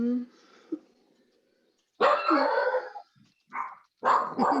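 A dog barks at people walking past a house, a few loud, close barks in short bursts separated by pauses, with a person talking nearby.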